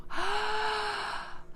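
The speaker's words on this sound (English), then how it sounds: "Breathing deeply has so many health benefits" A single long, deep breath drawn in steadily for over a second, close and fairly quiet, with no talking.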